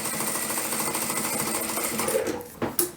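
A ProSew PS-1987A industrial lockstitch sewing machine stitching at a steady fast rhythmic whir, close and loud, ending with a few clunks as it stops.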